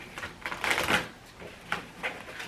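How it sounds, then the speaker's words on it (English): Quick papery riffles and soft snaps of tarot cards being shuffled by hand, close up, in a few short bursts with no talking. "I'm just going to shuffle on camera"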